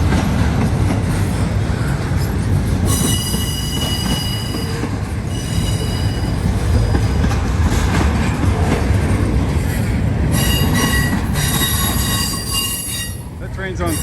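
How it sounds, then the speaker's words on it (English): A train passes close by on railway tracks with a loud, continuous rumble and rolling clatter, and bright, high wheel squeals rise and fall throughout. "That train's on 3 different tracks right now."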